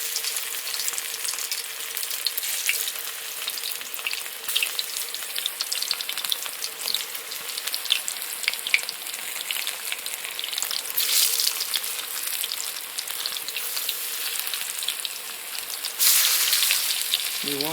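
Cauliflower pakoras fry in hot ghee, a loud, steady crackling sizzle that runs without pause and swells briefly toward the end, with no voices over it.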